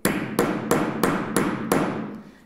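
Six sharp, evenly spaced hammer blows strike a screw punch tool setting metal snap fasteners, each a loud close crack with a quick fading ring.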